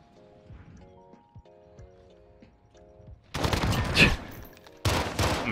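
Call of Duty Modern Warfare gunfire in a 1v1 bomb match, two loud rapid bursts cutting in after quieter game tones and footsteps.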